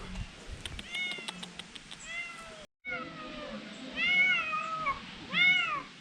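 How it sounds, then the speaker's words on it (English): A cat meows repeatedly at an active mountain temple in Fuzhou, the calls coming in rising and falling bursts, fairly close and growing louder over faint background noise. "I can hear a noisy cat"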